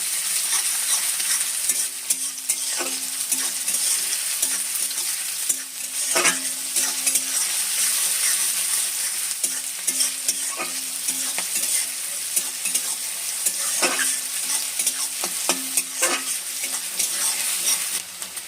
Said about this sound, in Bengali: এখানে পেঁয়াজটা একটু লাল লাল করে ভেজে নেবো